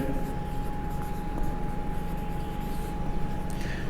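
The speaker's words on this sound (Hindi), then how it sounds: "ये पहला लिखते हैं एडवांटेज" Marker or chalk scratching across a board in a lecture room as the word 'advantage' is written, a continuous soft rubbing stroke sound over steady room hum with faint background noise, no speech.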